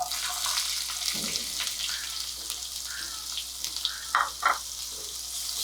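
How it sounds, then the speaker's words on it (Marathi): Cumin seeds, asafoetida and chopped onion sizzle steadily in hot oil in a pan, a soft continuous frying hiss with a few brief louder crackles and stirring bumps toward the end, heard close with no talking. "थोडस जिरं घालते हिंग आणि हा कांदा"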